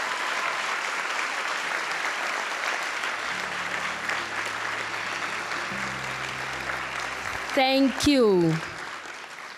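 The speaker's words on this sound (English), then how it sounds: "Can we give a round of applause?" A graduation audience applauds steadily in a broad, sustained wash of clapping, with a short spoken thanks near the end over the fading applause.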